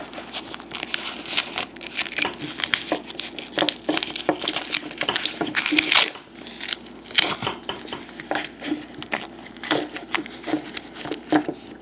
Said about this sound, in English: just duct tape them together.